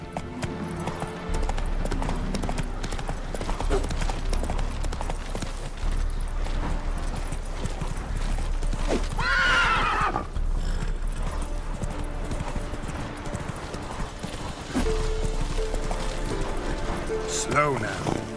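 Roach, the horse in The Witcher 3, gallops with steady rapid hoof clops and gives a brief neigh midway, mixed with game music and effects.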